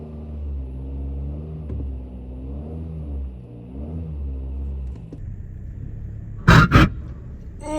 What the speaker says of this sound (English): I've never had a car scrape like this.